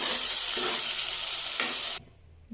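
Ground masala fries in oil in a pan, giving off a loud, dense, continuous sizzle with faint stirring beneath it. The sizzle stops abruptly near the end and only a low quiet remains.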